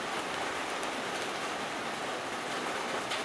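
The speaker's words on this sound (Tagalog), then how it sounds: "Malakas yung ulan, no?" Heavy rain pouring down steadily outside a house during a downpour, a dense continuous hiss of drops drumming on surfaces, loud and close with no break throughout.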